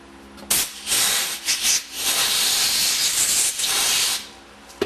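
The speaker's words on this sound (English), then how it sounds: "Compressed air." Compressed air blasts parts clean while a Meyer E-47 unit is rebuilt, a loud, close, hissing rush in several uneven bursts lasting a few seconds.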